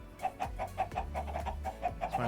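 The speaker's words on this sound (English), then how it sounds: "And spawn a bunch of chickens." Minecraft chickens clucking, many of them in quick overlapping bursts, a busy steady pecking chatter over low rumbling in the background.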